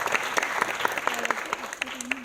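An audience claps at a Marathi film premiere show in Pune, a fairly faint, quick, uneven patter of hands over a few seconds, with a voice speaking briefly underneath.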